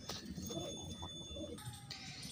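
Soft pigeon coos sound close by, low and rounded, against a faint steady background hiss.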